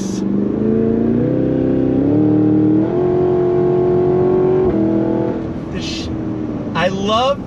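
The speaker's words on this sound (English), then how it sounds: "I love the way that they program the shifts into this thing. It just fires off like a machine gun." A 2023 Cadillac Escalade-V's engine roars loudly and close up as it accelerates hard, its pitch climbing and then dropping with each quick automatic gear shift, ending in a final burst of revving.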